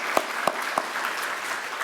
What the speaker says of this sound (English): We'll clap in their absence.